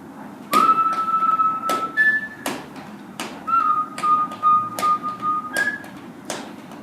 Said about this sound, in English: I'm going to whistle it, I'm going to do the rhythm